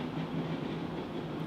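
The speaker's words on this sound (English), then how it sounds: "A lot of trains going by too." Trains rolling past, a steady continuous rumble with a low hum that holds evenly throughout and no speech.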